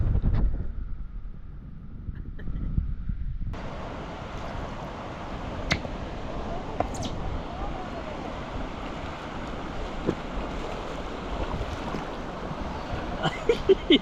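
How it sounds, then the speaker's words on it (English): Rushing water from a Yosemite waterfall gives a steady, moderately faint broadband roar that sets in after a few seconds, with occasional small clicks and knocks nearby. "I hear rushing water over there."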